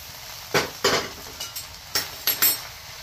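Bread pieces stirred into a beaten egg mixture in a pan, with a handful of sharp, irregular scrapes and clinks of the spoon against the pan over a quiet background.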